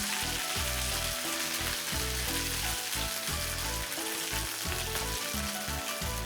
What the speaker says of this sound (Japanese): じゃあ2分経ったので一回外して裏返して焼いていきます